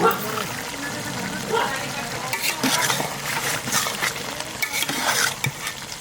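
Ginger-garlic paste sizzles in hot oil for a mutton curry while being stirred, with scraping clatter and brief splashy bursts close by, and a voice talks faintly in the background.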